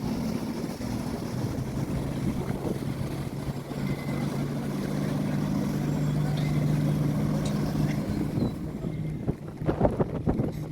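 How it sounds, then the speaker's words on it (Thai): A ferry boat crossing the river between Tha Tien and Wat Arun gives a steady, low engine drone with wind rushing across the microphone, and a few louder knocks and bumps near the end. "บริการเรือข้ามฟาก นี่ก็จะสะดวกรวดเร็วแล้วก็ประหยัดนะครับ"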